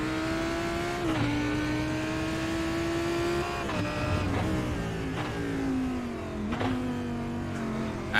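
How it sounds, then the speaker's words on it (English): A GT3 race car engine in iRacing drones steadily near and loud, its pitch rising and dropping through several gear changes and lifts as the car is driven slowly and carefully. "you can see and hear in the sound of the car how Melvin is taking it as slow as he can right now"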